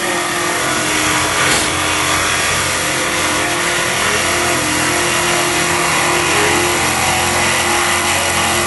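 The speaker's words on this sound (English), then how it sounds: "The end mill is not the sharpest, and it's cutting through wood." A loud, steady machine whine with a gritty cutting roar as a dull CNC end mill chews through wood, continuous throughout with no talking.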